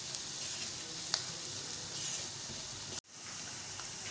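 Turmeric and onion frying in a pan for a turai (ridge gourd) sabzi give a steady, soft sizzle and hiss throughout, with a brief stir click and a short cut near the end.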